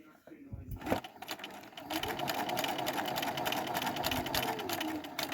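A Bernina B 380 sewing machine starts up and runs at a steady, rapid mechanical whir of stitching, with a person's voice over it.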